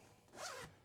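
A zipper on a motorcycle storage bag fitted to a 2023 Slingshot being pulled closed in one smooth, quiet, close-up stroke lasting about half a second.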